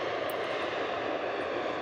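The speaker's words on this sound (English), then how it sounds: "That's the 787 flight from London that just landed." An airliner's jet engines roar steadily at an airport, a loud, continuous broadband rush with no talking.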